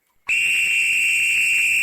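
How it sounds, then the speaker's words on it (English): A blast whistle sounds in the ArmA video game with the ACE mod, a single sharp, piercing tone that starts abruptly and holds steady and loud for nearly two seconds, with nothing else heard. "Is that the blast whistle? It is the second one, the blast whistle."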